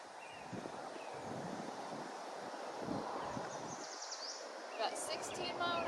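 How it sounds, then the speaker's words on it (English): Steady wind gusting by a river during a fishing outing, about 16 mph, a broad rushing noise that buffets the microphone throughout with a few faint higher chirps near the end. "It's windy and we're still fishing."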